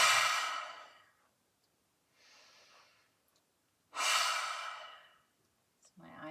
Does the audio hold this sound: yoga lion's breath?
yes